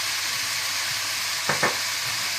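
Chicken sizzles in a frying pan after soy sauce is added: a steady, moderately quiet hiss of frying with a couple of brief stirring scrapes midway.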